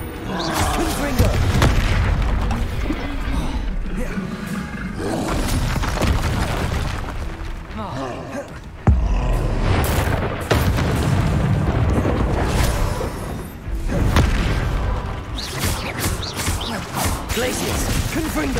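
Repeated Confringo blasting-spell explosions from Hogwarts Legacy boom in dense, loud bursts across the stretch, layered with game combat effects and brief gaps between volleys.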